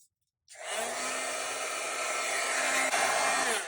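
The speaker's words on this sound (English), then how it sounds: "I'll let my embossing gun heat up really well" An embossing heat gun for card-making switches on after a short silence and then blows with a steady, close whirring rush of hot air and a faint motor whine. The sound holds to the end.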